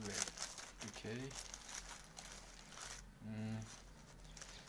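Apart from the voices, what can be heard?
opening a parcel with scissors, packaging crinkling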